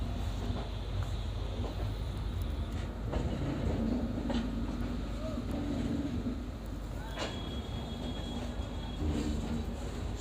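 The Andhra Pradesh Sampark Kranti Express rolls along the rails with a steady low rumble and occasional wheel clicks, heard from inside the coach while people talk in the background.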